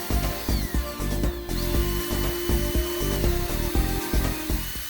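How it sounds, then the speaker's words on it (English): A power drill whirs into wooden teak table legs in short pulsing bursts, drilling pilot holes, loud and close, with a steady grinding hum beneath. "Pre-drill a hole in the center of each leg and then tap them in."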